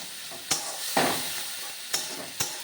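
Onions frying in a pan with turmeric and other spices, a steady close sizzle broken by several sharp scrapes of stirring.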